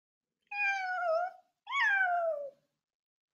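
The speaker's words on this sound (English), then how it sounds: "Cat." A cat gives two long, clear meows, one after the other, close and alone with silence around them.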